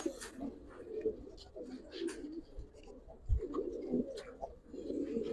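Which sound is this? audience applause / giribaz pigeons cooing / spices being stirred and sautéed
giribaz pigeons cooing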